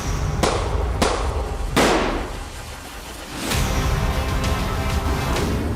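Several sharp gunshots crack out one after another, each trailing into a ringing echo, followed by a dense rattle of rapid pops.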